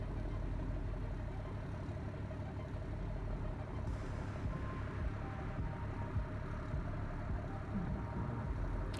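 A vehicle engine idling in a video game, a steady low rumble that holds evenly throughout with no revving.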